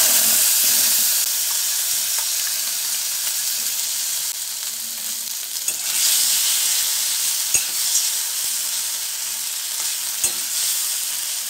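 Vegetables and spices for a cabbage curry sizzle steadily in an oily pan, a bright continuous hiss with a few soft clinks of stirring, close up and with no talking.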